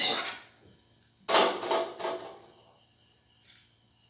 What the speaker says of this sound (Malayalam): ഇനി ഇത് നന്നായിട്ടൊന്ന് യോജിപ്പിക്കണം ഇങ്ങനെ ഇളക്കി കൊടുക്കണേ